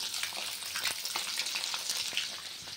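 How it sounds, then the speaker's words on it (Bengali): Eggs fry in a hot pan in a home kitchen, a loud continuous sizzle with sharp spits and crackles close by, steady from start to finish with no talk. "আর এখানে ডিম ভাজা হচ্ছে"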